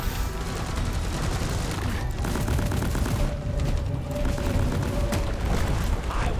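Deep Rock Galactic video game sentry gun firing nonstop, a dense rattling stream of rapid shots with booms underneath, loud and continuous throughout with no talk.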